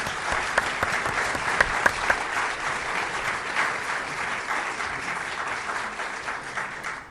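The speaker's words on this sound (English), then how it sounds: "Let's give all of these candidates a huge round of applause." An audience at a city council and school board candidates' debate in Bristol, Tennessee gives a sustained round of applause, dense and even with a few sharper claps standing out, gradually tapering toward the end.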